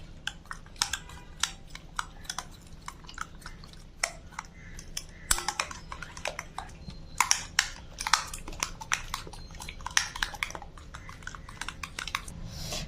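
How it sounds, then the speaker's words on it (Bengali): Eggs are beaten together with cauliflower pieces in a bowl, giving rapid, irregular clicking taps and soft squishes up close, steady throughout without talk. "এবার সবগুলো একসাথে একটু ফেটিয়ে নেব।"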